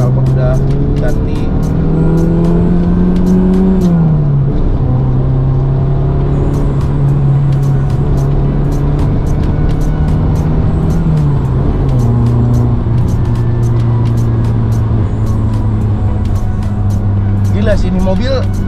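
An old retro Mitsubishi car engine revs loudly and close, pitch rising and dropping with each gear change as it accelerates through several gears, with a voice talking over it.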